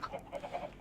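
A chicken in Minecraft gives a quick run of short clucks, about half a dozen choppy, close, fairly soft notes over less than a second.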